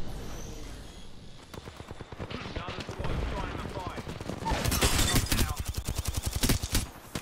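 Rapid gunfire bursts from a shooter video game crackle in quick volleys, growing denser and louder toward the end, mixed with background game noise and occasional voices.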